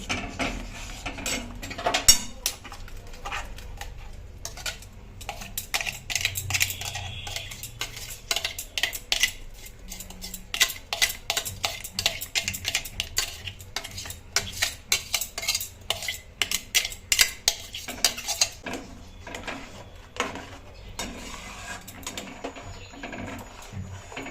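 Coconut paste being stirred into milk in a pan for Bengali patisapta filling, giving steady scraping and clinking of a utensil against the pan with soft bubbling throughout, close and fairly loud, no talking.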